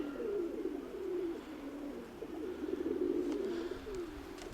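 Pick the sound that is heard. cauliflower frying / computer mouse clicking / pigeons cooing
pigeons cooing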